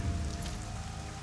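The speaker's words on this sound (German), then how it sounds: "Und bei diesem wundervollen Regen." Rain in the fantasy video game Arcania (Gothic), a soft steady patter of drops on surfaces, quiet and continuous over a short stretch with no speech.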